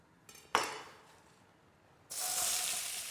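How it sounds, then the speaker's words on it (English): A pan for prawn noodle curry with courgette clatters once, then after a quiet stretch bursts into a loud, steady, hissing sizzle close by, with no talk. "that sizzle? That's what you're looking for."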